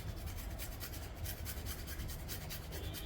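An ingredient is grated by hand for morning tea in a home kitchen on a rainy day, producing quick rhythmic rasping strokes close by, steady and fairly quiet, with no talking.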